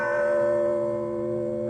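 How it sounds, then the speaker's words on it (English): A large bell rung to summon servants on a family estate, heard as one long ringing toll with a sustained metallic hum that decays slowly. "that is quite a bell to summon the servants"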